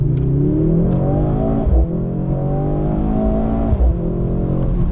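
A Mercedes-AMG C63 in Sport Plus mode accelerates hard uphill, its engine note climbing steadily through rising revs with a brief dip around a gear change, loud and close with no talking.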